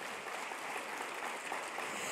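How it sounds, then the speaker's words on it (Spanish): Church congregation clapping for the Lord during a Spanish-language sermon, a steady wash of many hands that holds evenly throughout, moderately distant and filling the room. "¿Cuántos le damos un fuerte aplauso al Señor?"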